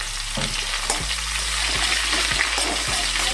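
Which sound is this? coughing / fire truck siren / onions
onions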